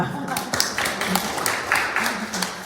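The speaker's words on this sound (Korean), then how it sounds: "우리 격려의 박수 한번." A church congregation claps together in a sanctuary, a run of quick, uneven hand claps that rise and fall over a few seconds, with voices murmuring underneath.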